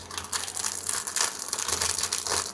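Crinkling and crumpling of a plastic zip-lock storage bag, close and steady, with bursts of bright rustling handling noise across the whole stretch and no talk.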